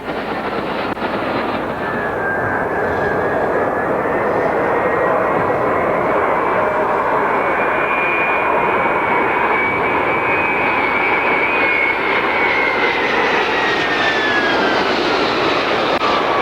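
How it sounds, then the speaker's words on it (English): An Ilyushin IL-96 airliner with high-bypass turbofan engines roars loudly at an air show, a sustained broadband rush with a rising then falling turbine whine as it passes, steady and dominant throughout. "The IL-96 is a state-of-the-art machine, powered by economical high-bypass turbofans"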